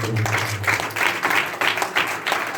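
A church congregation claps loudly in steady, rhythmic bursts, close and continuous for the whole stretch.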